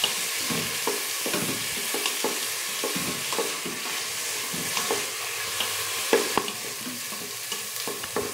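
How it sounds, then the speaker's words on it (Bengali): Onions fry in a pan for a spicy Bengali mutton curry, a steady sizzle broken by repeated scraping strokes of a spatula stirring them at a regular pace, close and without voices. "পেঁয়াজটা ভাজা ভাজা হয়ে গেছে,"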